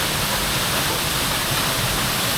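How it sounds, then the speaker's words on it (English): A waterfall in a Japanese forest roars as a loud, steady, broadband rush of falling water that fills the whole clip without a break. "there's our waterfall."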